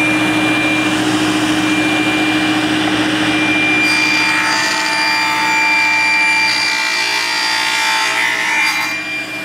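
A table saw blade cuts through a wood wedge fed with a push block, a loud continuous whine and rasp that deepens as the blade bites into the wood partway through.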